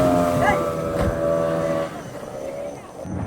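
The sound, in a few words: racing boat engine passing at sea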